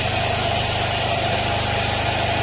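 A Honda Click scooter engine idles at close range, a steady high buzzing hum that holds even throughout, the scooter's engine troubled after being ridden repeatedly through floodwater.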